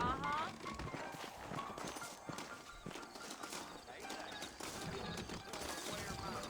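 Horse hooves clip-clop at a walking pace in the video game Red Dead Redemption beneath ongoing talk, with a brief whinny early on.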